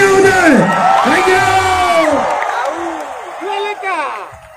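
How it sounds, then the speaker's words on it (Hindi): A live crowd at KPH Taralangso in Karbi Anglong cheers for actor Shakti Kapoor, with loud whoops and yells rising and falling over scattered applause, fading somewhat before a final burst of shouting. "एक बार शक्ति कपूर जी के लिए जोरदार तालियां हो जाए"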